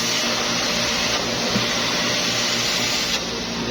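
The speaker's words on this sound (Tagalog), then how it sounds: "Vacuum sa tirada guys." A vacuum cleaner runs during maintenance cleaning of a chiller unit, with a loud, steady whooshing roar and no pauses throughout.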